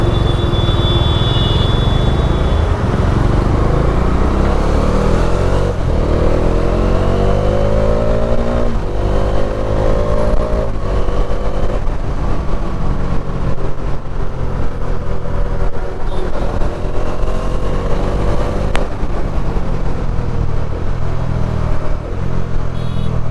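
A Bajaj Dominar 400 motorcycle rides over a dug-up gravel road, its engine loud and close, rising and falling in pitch as it accelerates and eases off, with the rumble continuous throughout.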